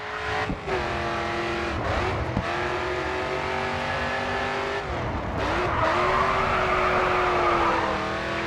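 Race car in Grid 2 braking hard into a turn, engine note dropping through downshifts with tyre squeal, then revving back up as it accelerates out, loud and close.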